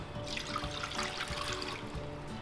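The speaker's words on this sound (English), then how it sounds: "I'll put the water first." Water poured into a bowl for empanada crust dough in a kitchen, a steady soft trickle with faint background hum, no voices.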